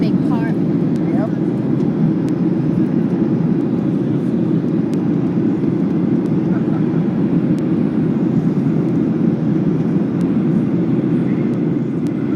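A Boeing 737-800 airliner cabin fills with a loud, steady broadband engine and airflow roar as the flaps and landing gear lower on approach, a constant dense rumble with faint brief clicks throughout.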